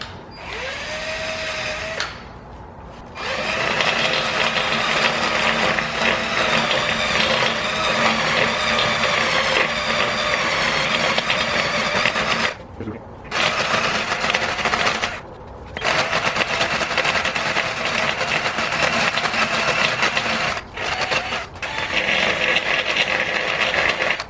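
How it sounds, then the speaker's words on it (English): A handheld drill spinning a grinding bit against curb rash on an aluminum wheel of a BMW E90 335i, a loud steady whine in long bursts with a few brief pauses, close and with no talking. "Got it set up on my drill."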